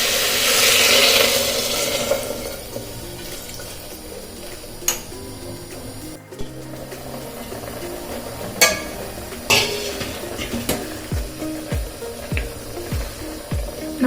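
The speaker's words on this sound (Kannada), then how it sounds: "ಒಗ್ಗರಣೆಯಲ್ಲಿ 1 ನಿಮಿಷ ಮಿಕ್ಸ್ ಮಾಡಿ ಆದಮೇಲೆ ನಾವು ಇದಕ್ಕೆ 1 ಲೋಟ ನೀರನ್ನು ಆ್ಯಡ್ ಮಾಡ್ತಾ ಇದ್ದೀನಿ" Water poured into a pot of sizzling sambar tempering for a ridge gourd and lentil sambar, then stirred, with a steady hiss easing into scattered metallic spoon clinks and scrapes against the pot, close and moderately loud.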